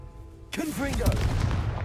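Confringo explosive spell cast in a Harry Potter video game: a sudden loud blast bursts in after half a second of quiet, then a sustained roaring crackle with game effects continuing to the end.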